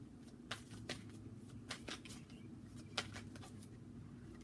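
Chrysalis Tarot card deck being shuffled, with a series of soft, crisp riffling flicks and taps close by against a low background hum, no talking.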